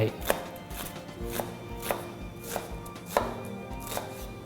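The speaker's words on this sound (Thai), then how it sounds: "หอมใหญ่แล้วก็ หั่นให้เป็นเส้นๆก็ได้" A knife slicing an onion into strips on a cutting board in a steady rhythm, about two strokes per second, close by with a faint background hum.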